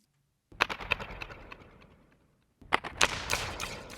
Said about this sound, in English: It's also run through the space modulator, the Valhalla space modulator.